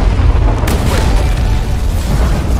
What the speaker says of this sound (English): Use the move where you fall down with the bomb, the explosion.